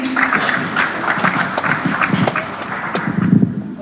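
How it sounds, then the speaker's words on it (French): Audience applause at a health-sector conference panel, a dense burst of many hands clapping, loud and close, swelling briefly near the end before easing off. "Encore une fois, applaudissez pour mon excellent panel."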